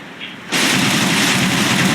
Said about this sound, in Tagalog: naulan